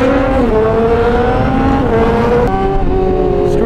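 An inline-four big bike screams at high revs, loud and close, with its pitch climbing and shifting in steady harmonic layers and a brief shift in the middle.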